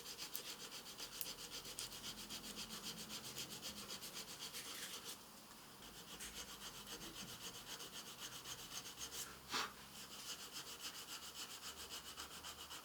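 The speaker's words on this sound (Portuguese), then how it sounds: "Estou mantendo a lixa sempre em cima da lâmina que eu coloquei." Sandpaper rubs steadily back and forth over a blade during grafting work, a continuous quiet grinding hiss with one brief sharper scrape near the end.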